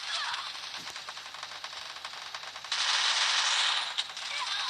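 An MP5 fires in the video game Free Fire as sustained, rapid automatic shots that grow louder and denser partway through.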